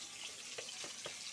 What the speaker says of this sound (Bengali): আমি এবার পটলগুলি ভাজবো।